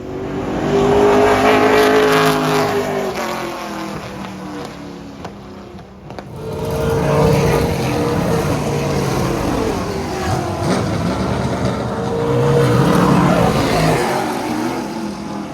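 A pro late model race car laps Montgomery's track in practice, its engine roaring loud and steady, rising and falling in pitch as it accelerates, dips briefly, then builds again.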